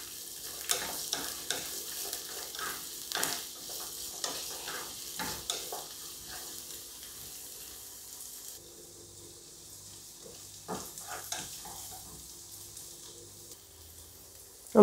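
Green chilies sautéing in a pan for Kerala vegetable stew, a quiet sizzle under repeated spoon scrapes and stirring clatter, with a few softer taps later.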